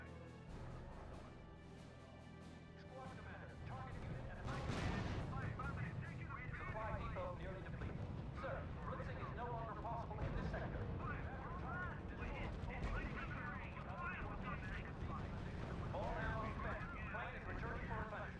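Artillery bombardment in the real-time strategy game R.U.S.E., a dense, continuous roll of booming blasts and rumble that swells sharply a few seconds in and keeps pounding without a break.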